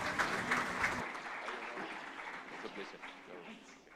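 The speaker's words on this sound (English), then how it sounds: "A round of applause for her." Applause breaks out from the audience at a cybersecurity symposium in Montevideo, a dense clapping burst that fades over a few seconds with murmuring underneath.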